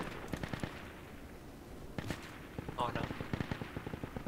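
Rapid gunfire from a squad-based military shooter, with distant bursts and sharp cracks echoing through trees in a steady rattling stream, while voices speak over it.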